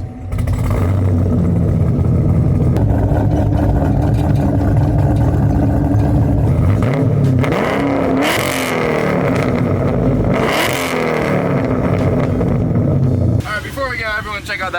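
A Chevrolet Caprice PPV police car idles with a deep, loud exhaust rumble close by, then revs up several times in rising surges before settling, with a voice briefly heard near the end.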